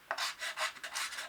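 Sandpaper rubs back and forth across a wooden acoustic guitar joint in a workshop, a close, steady rasping of several quick strokes with no talk.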